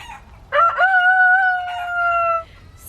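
A rooster in a backyard chicken flock crows once, a loud, close, drawn-out cock-a-doodle-doo lasting about two seconds, with faint background noise around it.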